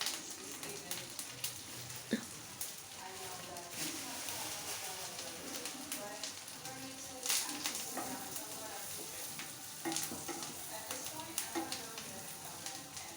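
Curry leaves and onions frying in hot oil give off a steady, crackling sizzle with occasional sharper pops, and a voice is faintly present at times.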